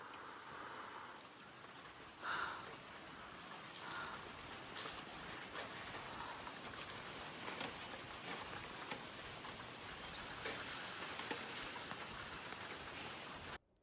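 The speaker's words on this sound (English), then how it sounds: "it started raining. It just started to pour." Steady heavy rain pours down, a dense continuous hiss of drops drumming on surfaces, unchanging for the whole stretch before cutting off abruptly.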